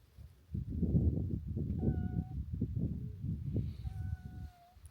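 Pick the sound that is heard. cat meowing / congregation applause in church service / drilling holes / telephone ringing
cat meowing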